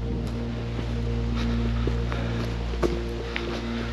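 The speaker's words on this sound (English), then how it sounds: "There's a nice wind blowing, which is great." Wind blowing outdoors in a forest park garden in Ireland, a steady low rush of noise with a few faint knocks and bumps, no talking.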